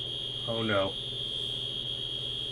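Fire alarm in an apartment building gives a steady, piercing electronic tone running through the whole moment, with a person briefly exclaiming over it.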